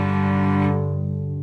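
A cello bow drawn with full arm weight gives one big, rich sustained note, loud and close, with strong harmonics that thin toward the end.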